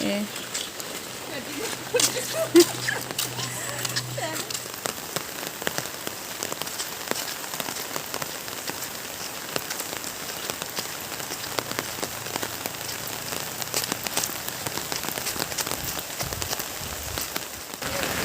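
Steady rain pours onto surfaces outdoors during a monsoon day, with dense pattering drops and occasional sharper splashes throughout, and a low hum briefly underneath.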